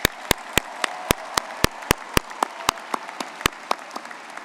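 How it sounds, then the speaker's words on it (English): Sharp individual claps from a commencement ceremony audience ring out in a steady rhythm, close and loud, slowly thinning toward the end. "let's give these guys a round of applause"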